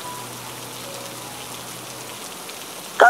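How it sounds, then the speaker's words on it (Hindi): Steady rain falling as a continuous soft hiss, even and moderately loud throughout, with a brief louder sound at the very end. "काश ये बारिश बंद हो जाए"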